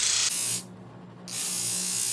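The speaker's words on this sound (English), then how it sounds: "Ready for the flap sander? I go from 80 grit to 240" A flap sander buzzes against leather edges in two short close whirring bursts with a brief quieter gap between them.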